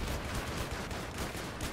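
Battlefield 3 gunfire rattles in a steady, dense burst of rapid shots, moderately loud, with no voices over it.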